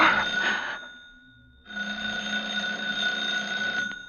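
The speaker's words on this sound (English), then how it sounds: "when the phone rang" A telephone bell rings in an old-time radio detective drama: a loud, close ring, a short pause, then a longer second ring, with no voices over it.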